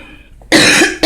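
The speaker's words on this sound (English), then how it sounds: "I coughed and I forgot" A single sharp human cough bursts out loudly after a quiet moment, followed by a second short cough at the very end.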